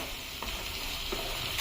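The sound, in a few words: data stems with mustard frying in a pan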